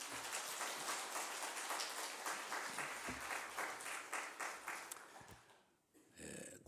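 A church congregation applauds warmly to welcome the pastor at a deacons' seminary gathering, a dense sustained clapping that fades out over several seconds before a short burst of other noise at the end.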